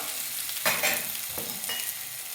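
A breakfast dish frying in oil in a pan, a steady close sizzle with a few louder bursts of crackle as it is stirred or turned.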